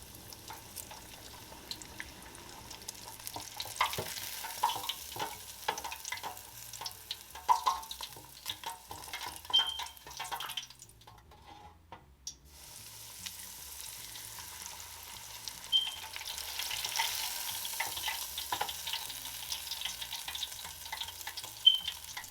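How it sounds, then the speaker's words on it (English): Steady sizzling and crackling of skewered, crab-stuffed catfish frying in hot grease, soft and continuous, with a brief quieter gap in the middle. "I soaked these skewers overnight in some water just so they wouldn't burn so fast in this grease while they're frying."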